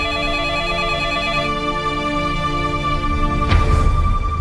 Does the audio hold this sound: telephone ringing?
yes